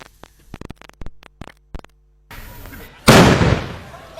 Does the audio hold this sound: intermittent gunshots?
yes